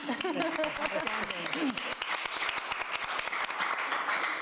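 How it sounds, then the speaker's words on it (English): A conference audience at a talk on emerging technologies for the planet claps in crisp, fairly close bursts, starting under a voice and continuing on its own. "Let's clap for that."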